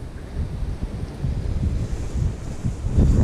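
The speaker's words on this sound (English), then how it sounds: "we just had a nice gust of wind" A gust of wind buffets a microphone beside a farm pond during bass fishing, a loud rumbling, fluttering roar that swells and builds toward the end, with no talk.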